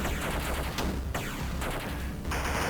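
Machine gun fire in the PC arcade game Rolling Bird: continuous, dense rapid bursts of retro-style shots fill the whole stretch at steady loudness, with brief breaks between volleys.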